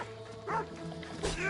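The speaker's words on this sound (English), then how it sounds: "Go away, dog." A dog in the video game Assassin's Creed Odyssey gives a couple of short yips and barks over steady game background noise.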